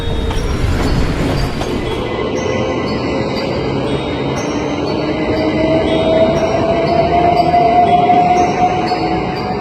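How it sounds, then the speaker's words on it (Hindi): A train comes to a stop in the middle of a jungle: steady, close wheel rumble and clatter, with a thin metallic squeal rising and sustaining as it slows. "तभी ट्रेन जंगल के बीच में आकर रुक जाती है।"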